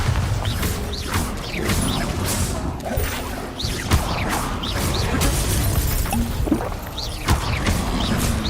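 Bombarda blasting spell impacts crash and smash in Hogwarts Legacy, several sharp hits and whooshes layered over loud, continuous game combat noise.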